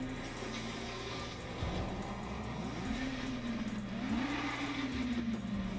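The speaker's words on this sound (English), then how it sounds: "Alright, ladies and gentlemen, we're going to start this car." A BMW M3 Sport engine in the RaceRoom racing game starts up and settles into a steady idle, its tone rising and dipping with light revs, loud and alone.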